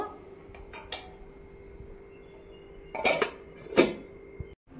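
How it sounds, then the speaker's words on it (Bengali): A lid goes onto a pot of Bengali basanti pulao, two sharp metallic clanks close by, with a few lighter utensil taps earlier over a quiet kitchen hum. "এবার আমি 5 মিনিটের জন্য ঢাকনা দিয়ে দেব।"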